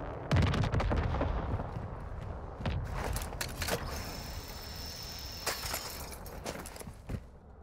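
Bursts of gunfire from a bot in Call of Duty DMZ, several sharp cracks scattered through the stretch, some close and loud, others more distant, over a rumbling background with a thin high tone midway.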